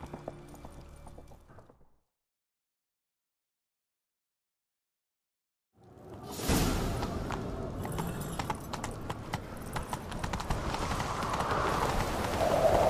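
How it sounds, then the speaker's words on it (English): After a stretch of silence, a horse's galloping hooves in The Witcher III video game rise and keep up a rapid, steady clatter, fairly close and loud. "Grab a horse, we'll chase him down."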